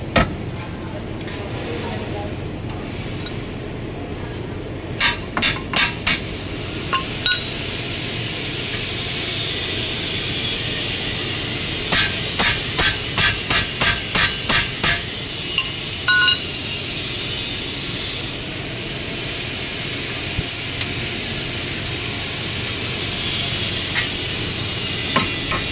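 Metal hammering on the front wheel hub of a Toyota HiAce Grandia GL during a hub bearing replacement: sharp ringing blows in quick clusters, separated by stretches of low workshop hum.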